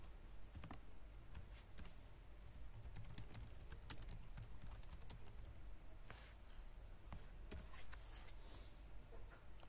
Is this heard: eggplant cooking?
no